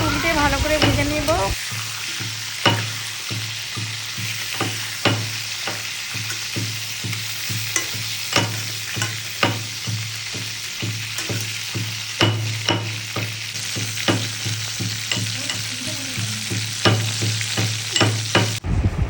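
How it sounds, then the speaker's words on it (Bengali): Four crabs fry in hot oil in a pan, giving a steady close sizzle punctuated by regular clicks and scrapes as they are stirred and turned, with no talking. "এইভাবে এই 4টে কাঁকড়াকে দিয়ে ভেজে নেব ভালো করে"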